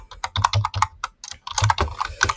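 Fast typing on a computer keyboard while a command name is entered into a Power Apps ribbon editor, irregular clusters of crisp key clicks with short pauses, close and clear.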